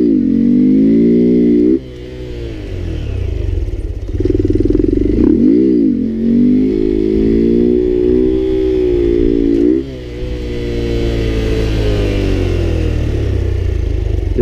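A Honda Grom motorcycle engine drones loud and close through a controlled high wheelie, its pitch rising and falling with throttle and dipping briefly as the rear brake brings the front down.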